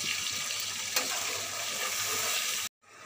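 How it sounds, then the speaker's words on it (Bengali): Water is poured into a simmering fish curry in a pan. A continuous splashing, sizzling hiss runs for over two seconds, then cuts off abruptly and is followed by a quieter bubbling. "এবার আমি জল দিয়ে দেবো।"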